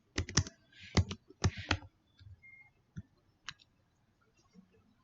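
Computer keyboard typing in quick bursts of clicky keystrokes, a cluster of sharp taps followed by a few scattered single key presses, close and alone.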